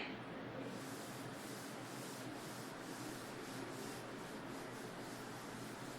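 A classroom board being rubbed clean with a duster, a continuous rhythmic scrubbing that stays steady and close for the whole stretch with no talk.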